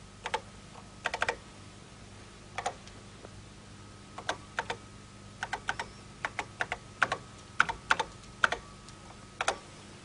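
Message being typed on a computer keyboard: irregular bursts of sharp key clicks in short clusters, fairly close and quiet, with a faint steady hum behind and no speech.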